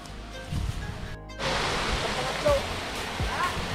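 Waterfall at Baag Falls in Sitio Baag, Iba, San Jose, Tarlac: a dense broadband rush of falling water, briefly dipping out near the start, then a steady, close roar for the rest of the clip.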